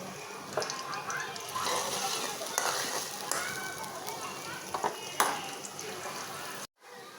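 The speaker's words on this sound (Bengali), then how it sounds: "আমি পেঁয়াজটা দিয়ে দিলাম আর পেঁয়াজটা হালকা ভাজা হইলে" Onions fry lightly in oil for a Bangladeshi potato and aubrinjal curry with dried hilsa, a faint steady sizzle under a woman's speech, with a few sharp clinks of utensils.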